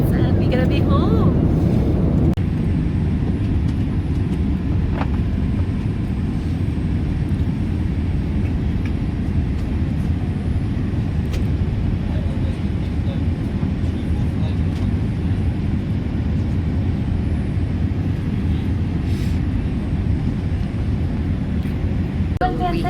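An Air India airliner cabin during descent into Dubai fills with a constant broadband jet roar, steady and moderately loud throughout, with a brief bump of noise near the start.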